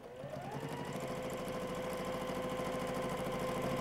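A sewing machine quilting an S-shaped design runs steadily and close, with a fast, even mechanical whir and rapid stitching pulses. The motor settles into a constant pitch after a brief rise at the start.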